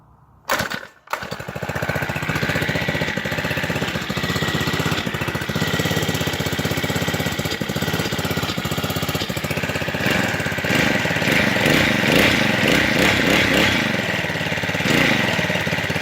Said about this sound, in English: But it idles nice and quiet, and it's like 3 times as quiet as that other bike.